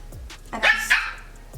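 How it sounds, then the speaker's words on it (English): Dogs bark in the background of a room, a few sharp yips and barks in quick succession, moderately loud with a steady low hum underneath. "I'm sorry about the barking in the background"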